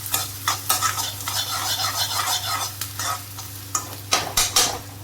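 Hot oil sizzling and crackling steadily as spices, chilli and ginger are tempered, with bursts of spattering, plus a few scraping stirs of a utensil in a pan, close by.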